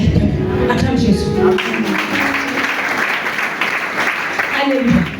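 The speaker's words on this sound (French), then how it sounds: "Acclame Jésus." A church congregation claps and cheers in praise of Jesus during a French-language deliverance service, a broad steady wash of applause and voices filling the room for several seconds.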